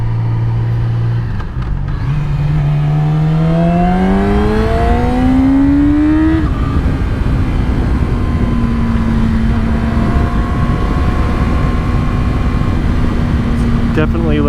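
A 2017 Yamaha R6 sport motorcycle engine climbs steadily in pitch for several seconds as it accelerates, then settles into a loud, even drone at cruising speed over constant wind rush.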